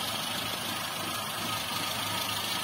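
A 2005 Toyota Avanza G with a 1300 engine idles in a steady, even hum under the open hood, close up, with no talk.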